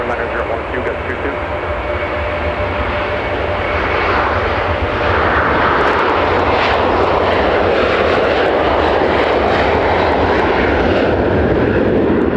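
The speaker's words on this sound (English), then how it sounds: "Our CFM 56 buzzsaw is definitely being felt in full effect today" A departing jet airliner powered by CFM56 engines roars loudly and steadily, its buzzsaw drone building and swelling over the full length during a winter storm at Minneapolis–St. Paul Airport.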